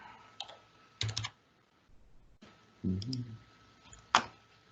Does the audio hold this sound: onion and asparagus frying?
no